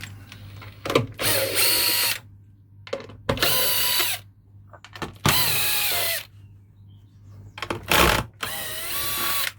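Power drill whirs in repeated bursts, stopping and starting as screws come out to remove the woofer from a B&W DM4 loudspeaker, with ratcheting clicks and handling noise between runs; close and loud, no talking.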